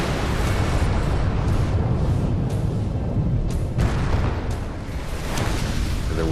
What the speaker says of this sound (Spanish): Hubo una gran explosión con una potencia equivalente a la de una explosión nuclear.